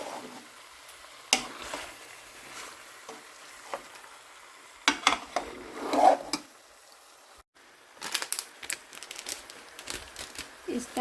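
Chicken pieces frying in masala in a pan for a Pakistani chicken-and-chickpea curry sizzle and scrape as they are stirred, with intermittent louder stirring clatters and a steady crackle underneath.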